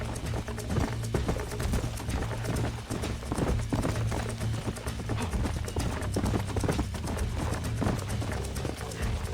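Steady clip-clop of horse hooves at a running pace in the video game Red Dead Redemption, loud and continuous, with game-like background hum underneath.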